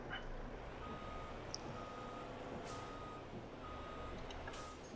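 A truck in a video game backs out a trailer, its reversing alarm sounding a steady series of faint, evenly spaced beeps over a low engine rumble, with occasional hiss bursts.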